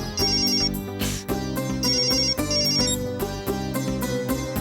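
A loud electronic phone ringtone plays a bright, repeating melody over a steady beat, with no voices.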